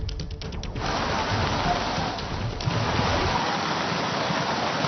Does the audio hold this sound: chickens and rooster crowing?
no